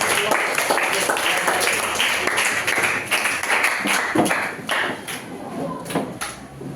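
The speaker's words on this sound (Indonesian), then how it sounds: "Ya, kasih tepuk tangan dulu" Students in a classroom clap after a group presentation, a loud, close burst that grows uneven and scattered, with a few thumps, as it fades.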